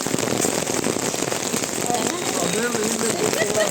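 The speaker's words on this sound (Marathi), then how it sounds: "घराजवळच पोचतो आणि जोरदार पाऊस चालू झाला" Heavy rain pours down steadily near a house in Kalyan, a dense, continuous hiss of falling water and spattering drops that stays loud and even throughout, with faint voices and sounds mixed into the downpour.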